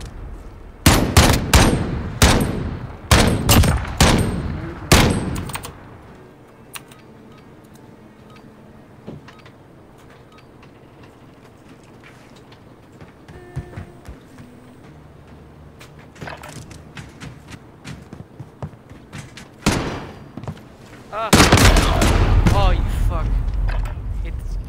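Rifle fire rings out in a video game gunfight: a fast burst of sharp shots at the start, a quieter stretch with scattered clicks and a voice talking, then a dense loud volley near the end.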